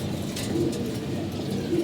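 Pigeons in a loft coo softly with low repeated throaty calls, two clear coos over a constant murmur of other birds nearby, no talking.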